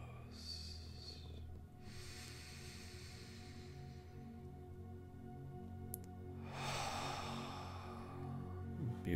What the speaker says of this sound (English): Deep inhales. Deep exhales.